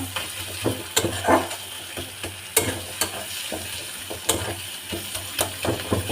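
Dried fish paste being stirred and fried in a pan, mashed together for a jackfruit seed bhorta, gives a steady sizzle with repeated scraping strokes and sharp clinks of the spoon against the pan.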